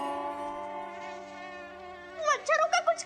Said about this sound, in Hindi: ये इतने मच्छर अचानक कहाँ से आ गए भाई?